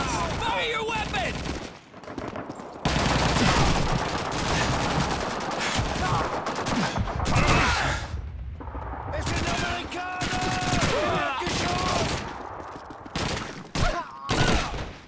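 Dense gunfire from an MG42 machine gun and other weapons rattles through a WWII river-crossing battle in Call of Duty 2, with continuous volleys and explosions while soldiers shout over the din.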